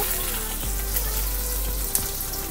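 Mustard seeds and curry leaves fry in hot oil, making a continuous bright crackle with a low hum underneath and one sharp pop near the end.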